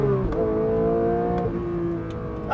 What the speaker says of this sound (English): how subtle can you be with an engine that sounds like this?